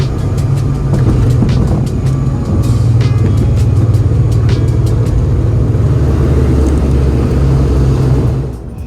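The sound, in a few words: Aer Lingus Regional airplane cabin during descent into Dublin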